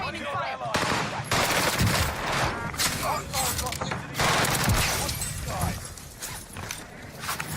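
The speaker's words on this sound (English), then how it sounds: "the hipfire PPSH is so good" PPSh submachine gun hipfired in a first-person shooter game, sustained rapid automatic bursts with brief pauses, loud and close amid battlefield noise while a player talks over it.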